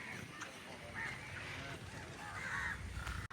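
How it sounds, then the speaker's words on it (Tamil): Crows flying around a large tree by fields call out in scattered, fairly loud caws over an outdoor breeze, with a voice speaking briefly in the background. "காகங்கள் நிறைய பறந்து கொண்டிருக்கு அந்த மரத்தை சுற்றி சுற்றி சுற்றி"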